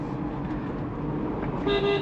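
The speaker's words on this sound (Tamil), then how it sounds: "அதுக்கு தான் இந்த ஹார்ன் நல்லா அடிச்சுங்க." A steady rumble of road traffic runs throughout, and near the end a car horn sounds with a sustained honk, fairly close.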